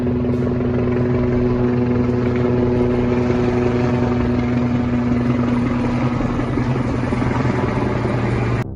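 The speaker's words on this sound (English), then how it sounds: "The Sikorsky helicopter flew in a series of circles just 400 feet above the tidy" A Sikorsky helicopter circles low, about 400 feet above rows of homes in Glendale, its loud, steady rotor and engine drone holding constant throughout, close and uninterrupted.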